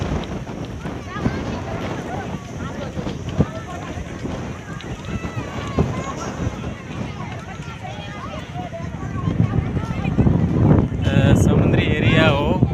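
Strong wind buffeting the microphone on a seashore, a continuous rough rumble that swells louder near the end, with people talking over it.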